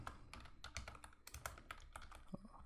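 Faint clicking of computer keys as code is entered in a Python lesson, quick irregular taps in short bursts, close and quiet, with no talk.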